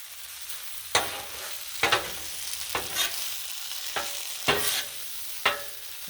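Shrimp fried rice with hoisin sauce sizzles on a Blackstone griddle, a steady frying hiss broken by sharp spatula scrapes and flips about once a second.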